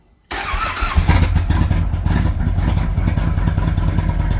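An Indian Roadmaster motorcycle, fresh from a spark plug change, cranks and fires after a brief silence, then settles into a loud, close, continuous rumbling idle with mechanical clatter.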